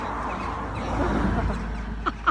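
A large flock of chickens clucks in a dense, continuous murmur nearby, with a couple of sharper squawks near the end.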